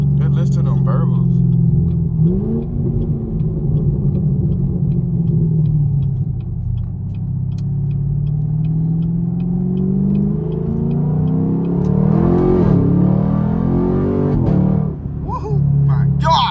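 Straight-piped Chevrolet Camaro SS idling with a loud, deep, continuous exhaust burble that rises briefly in a revving swell near the end, heard from up close with occasional voices over it.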